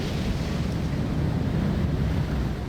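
Big storm waves crashing over the bows and forecastle of a wartime ship at sea, heard as a dense, continuous roar of surf and rushing wind, loud and unbroken, with no voices.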